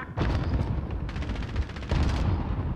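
Grenades burst in Call of Duty Modern Warfare during a Search and Destroy match, two loud crackling explosion bursts with rattling debris, one right after the other.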